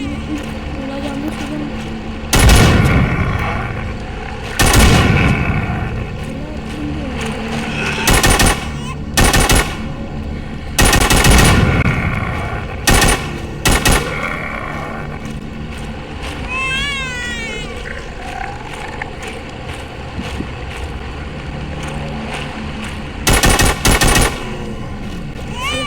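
Machine gun bursts from the Walking Zombie 2 video game crack out in several loud, short volleys spread across the stretch, with quieter in-game sounds and talk in between.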